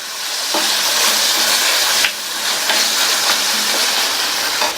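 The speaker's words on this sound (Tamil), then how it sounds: "2 சின்ன சைஸ் தக்காளியை இதை மாதிரி சின்ன சின்ன பீசஸாக கட் பண்ணி சேர்த்துட்டு வதக்கிக்கலாம்" Small chopped tomatoes sauté in a hot pan with ginger-garlic paste, giving a steady, close sizzling hiss with a few soft stirring scrapes and pops throughout.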